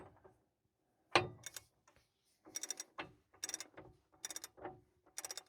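Ratchet wrench turning on a ball joint of a Ford F-250 Super Duty front end, several short clicking bursts separated by quiet gaps, close and fairly faint, with a single louder knock near the start.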